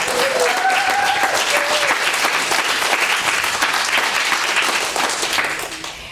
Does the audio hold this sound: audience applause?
yes